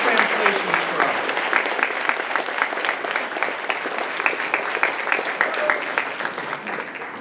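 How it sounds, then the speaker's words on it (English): Audience clapping at an anime convention's closing ceremony, Anime Central 2017, a steady wash of many hands with crisp individual claps, sustained evenly at moderate loudness throughout. "Everyone give a round of applause for Taka"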